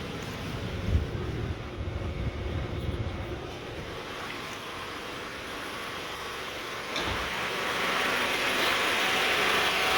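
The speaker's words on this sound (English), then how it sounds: "The AC is running. The fan is running." Toyota Camry from the 2002 to 2006 generation idling with the AC and cooling fan running, a steady broadband whoosh and hum that swells louder toward the end.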